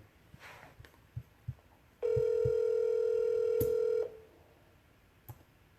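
A single steady electronic telephone ring tone sounds for about two seconds, loud and even, with faint clicks before and after.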